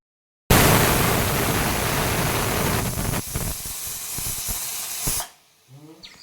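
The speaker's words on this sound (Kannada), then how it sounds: "4ರಿಂದ 5 ವಿಸಿಲ್ನ ಕೂಗಿಸ್ಕೊಳ್ಳಿ." A pressure cooker with sprouted horse gram for sambar blows a loud, continuous jet of hissing steam for about five seconds, then cuts off abruptly, leaving faint kitchen sounds.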